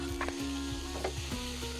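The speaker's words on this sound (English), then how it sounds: "throw that pheasant on there. We're gonna get that browning right away. Oh yeah, listen to that sizzle" Steady sizzling of pheasant meat browning in a hot pan on a CanCooker, a continuous crackling hiss with faint stirring clinks, close up and with no talking.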